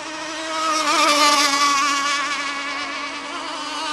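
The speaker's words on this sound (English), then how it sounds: "All four boats still running." Gas-powered radio-controlled rigger race boats at a national racing event run with a high, buzzing two-stroke whine that swells as they pass close, then fades a little, steady and loud without talking.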